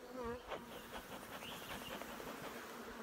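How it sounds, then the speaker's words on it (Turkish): Native Hatay honey bees buzz in a continuous faint drone, several insects humming near and around, with no talking. "Hatay arısı bu tabi. Yerli arı."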